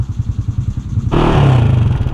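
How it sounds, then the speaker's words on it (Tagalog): A motorcycle engine runs close by, a steady low throb that swells louder partway through as it revs up, with no talk over it. "Pinasakay niya na lang yung motor niya."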